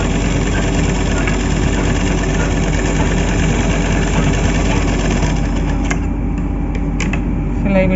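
Sewing machine running a long stitch along a bordered blouse seam, a steady, close motor whir holding unbroken for the whole stretch, with faint talk underneath.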